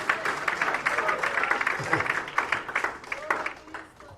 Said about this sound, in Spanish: dale fuerte el aplauso a Cristo porque Él es bueno